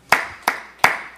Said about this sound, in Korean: 이번 주 여러분 스스로에게 박수를 쳐주세요